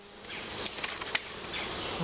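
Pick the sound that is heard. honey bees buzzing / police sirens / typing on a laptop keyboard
honey bees buzzing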